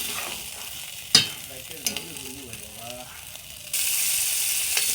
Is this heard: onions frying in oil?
yes